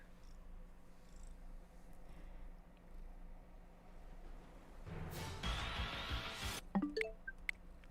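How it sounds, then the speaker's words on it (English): A pet cat purrs softly and steadily in a quiet room, a low continuous rumble close by, with a few faint clicks and a brief rustling burst near the end. "You hear the purrs?"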